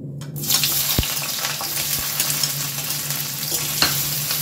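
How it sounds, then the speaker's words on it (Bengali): Chopped onion frying in hot mustard oil in a kadai, a loud continuous close sizzle with a faint stir and a few dull knocks of a utensil. "তেল গরম হয়ে গেছে, তেলের মধ্যে দিয়ে দেব কুচনো পেঁয়াজ।"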